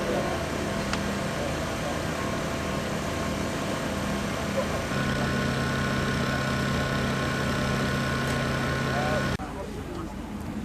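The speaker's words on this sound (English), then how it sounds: "this is a Ruthermeyer roller from Germany." A German Ruthermeyer roller at a vintage engine rally chugs with a steady low mechanical drone, joined midway by a sustained low hum, under ongoing talk.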